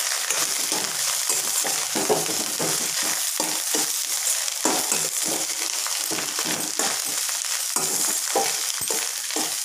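Fish roe fries under a lid in a covered pan, a steady loud sizzle and crackle with rapid popping bursts throughout, close up and without talk.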